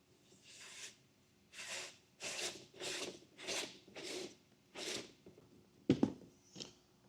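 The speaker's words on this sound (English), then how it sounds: "Then take our weather seal and just slide it all the way through our slot." Rubber weather seal slides through the slot of a Westin Sure-Grip running board on a 2025 Ford Explorer, making eight or so soft rasping strokes in a steady rhythm, close and quiet, followed by a sharper scrape.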